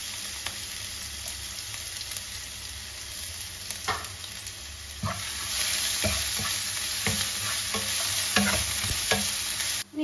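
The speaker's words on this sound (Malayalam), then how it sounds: "ഇനി ഇതിലേക്ക് ഞാൻ ഇഞ്ചിയും വെളുത്തുള്ളിയും ചതച്ചെടുത്ത് കൊടുക്കാം." Crushed ginger and garlic sizzle in hot oil for a fish curry, with a continuous hiss broken by repeated scraping stirs of a spoon against the pan.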